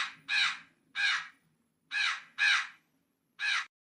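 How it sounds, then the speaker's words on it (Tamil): Crows cawing loudly and close by in six separate harsh calls, spaced irregularly, with only a faint low hum between them and no talking. "இது என்ன காக்கா நமக்கு போட்டியா வந்துருச்சு வடகத்தை திங்க"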